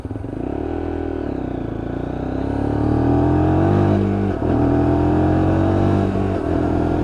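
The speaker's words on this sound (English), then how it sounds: "a lovely sound from that exhaust, and we're going to keep the visor up for the time being, just to let you have a listen to that bike" A Lexmoto LXR 125cc Euro 5 motorcycle engine and exhaust run steadily up close, with a loud, continuous burble that rises in pitch as the bike revs and accelerates, alone without talk.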